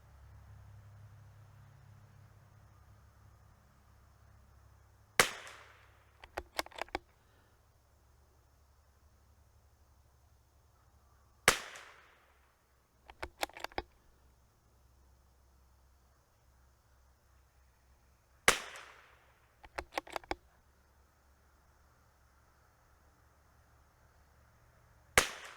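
Shots from a Tikka T1x MTR .22LR rifle, sharp distant cracks spaced several seconds apart, each followed by a few faint quick clicks of the bolt, over quiet outdoor background.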